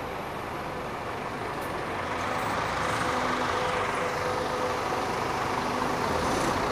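A Viação Caiçara bus on the Rio de Janeiro–Vitória route idles and rumbles at Novo Rio bus station, a steady broad engine and roadway noise that swells slightly, with no talk.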